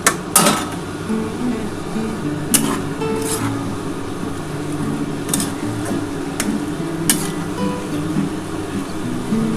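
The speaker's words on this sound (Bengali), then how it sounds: "এই যে দেখো বন্ধুরা, এবার আমি ঢাকাটা দিয়ে দিচ্ছি" A lid set down on a cooking pot of hilsa fish head and bottle gourd leaf chorchori, a few sharp metallic clacks and knocks over a steady low kitchen hum.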